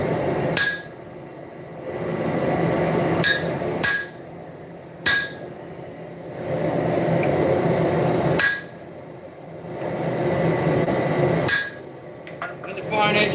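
While a Bowie knife guard is being forged, a hammer strikes its indentation in sharp, well-spaced metallic blows, ringing loud and close over a low steady background hum.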